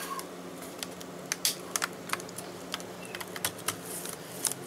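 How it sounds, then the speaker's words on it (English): Sharp plastic clicks and snaps, irregular and fairly close, as an HP 15G series laptop keyboard presses into place over quiet background hiss. "and just start snapping her in."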